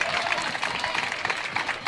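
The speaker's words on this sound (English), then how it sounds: "Crowd is going wild." Spectators at a pickleball tournament match cheer and clap in a dense, continuous wash of applause, loud and close for a brief burst.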